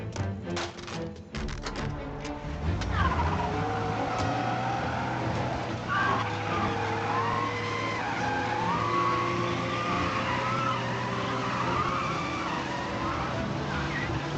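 Car engine revving and driving in the video game Mafia: Definitive Edition, a steady loud motor drone with skidding tyres and game music layered over it.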